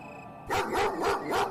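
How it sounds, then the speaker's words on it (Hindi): A run of four sharp dog barks in quick succession, loud and close, with a few overlapping voices suggesting more than one dog. "कुत्तों की झुंड एकजुट होकर खाड़ी के पास खड़े होकर किसी चीज को देखकर भौंकते रहते थे"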